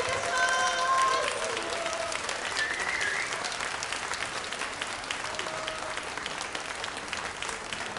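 An audience at a jazz festival street live show in Sendai Station gives a jazz quartet sustained, full applause. Many hands clap in a steady, even roar, with a few faint tones drifting through.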